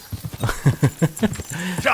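Horse hooves clip-clopping in the medieval video game Kingdom Come: Deliverance 2, a close, loud run of about a dozen evenly spaced hoof strikes in a brisk walking rhythm.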